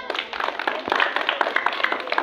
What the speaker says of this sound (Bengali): জোরে হাততালি দাও